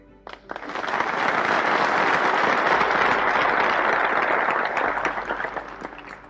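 An audience at a lecture on inflation and government spending bursts into applause, swelling quickly into sustained, dense clapping and then tapering slightly near the end.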